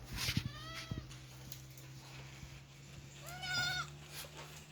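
Goats bleating on a goat farm where adults and kids feed on leaves and branches: two clear wavering bleats, one early and one near the end, with a few short thumps and a steady low hum between them and no talk.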